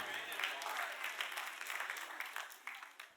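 Church congregation applauding, a sustained wash of clapping that sounds somewhat distant, with voices underneath.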